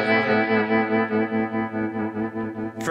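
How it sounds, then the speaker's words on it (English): Fender Stratocaster electric guitar played through a Deluxe Reverb amp with vibrato turned all the way up: a sustained chord pulses in a rapid, regular wobble for nearly three seconds, close and clear, ending in a brief noisy scrape. "we've got a deluxe reverb over on the side with the vibe all the way up."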